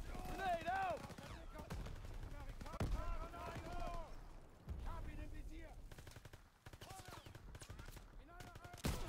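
Call of Duty WWII campaign combat: rapid gunfire bursts and booming artillery crackle continuously while players talk over the action.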